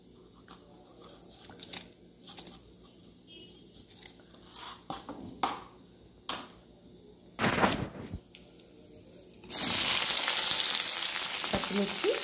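Cumin, mustard and urad dal tempering seeds crackle and pop in hot oil, with scattered sharp bursts. Near the end a loud, steady sizzle surges in.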